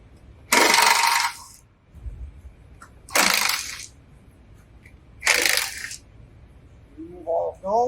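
A 10mm socket loosens and removes bolts from a shield under a 2019–2024 Lexus UX250h hybrid. Three separate bursts of metallic ratcheting or clattering are heard close up, divided by quiet gaps.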